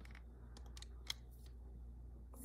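Typing on a Steam Deck's on-screen keyboard, a quiet scatter of small clicks and taps at an irregular pace with one sharper tap, heard close over a low steady hum with no talking.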